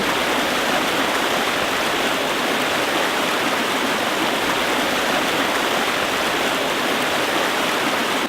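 A little river in Carding Mill Valley, Shropshire, rushes over rocks as a steady, close, broadband wash of flowing water, constant and loud throughout with no voices.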